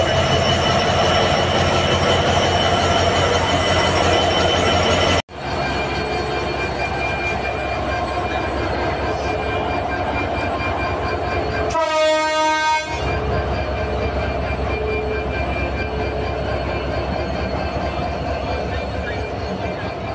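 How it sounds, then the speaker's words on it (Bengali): Varendra Express passenger train at a station in Rajshahi, its engine and carriages rumbling steadily close by, a horn-like tonal blast sounding briefly midway, with a sharp break near the start and people talking over the noise. "দেখেন আমাদের ট্রেনটা এখন ছেড়ে দেবে"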